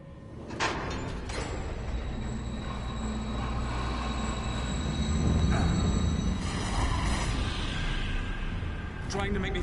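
A moving train in the horror video game The Evil Within rumbles loudly and continuously, with metallic squeals and clanks rising over the roar; a voice speaks over it.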